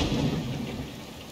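Thunderstorm in the video game Dawn of Man: a steady, loud wash of rain with a deep rolling rumble of thunder that swells early and then eases, with no talk over it.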